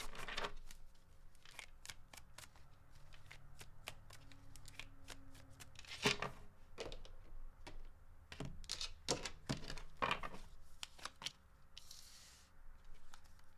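Tarot cards shuffled by hand in a quiet room, a long run of crisp riffling bursts and soft slaps at close range, clustered in quick flurries with brief pauses between.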